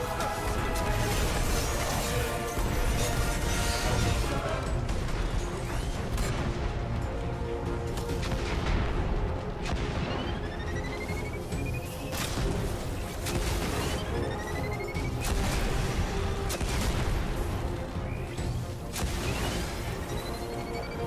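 Heavy, continuous scorch cannon fire in Destiny: Rise of Iron, with repeated crashing blasts and whooshing streaks, loud and dense throughout with no pauses.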